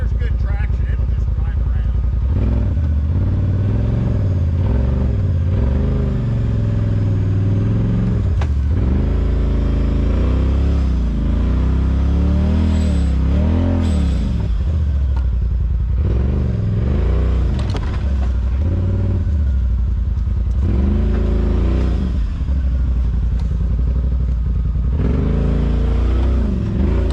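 UTV driving off-road at a rock offroad park in Missouri, a continuous loud engine rumble with repeated revving swells and rattles, close by, with people talking over it.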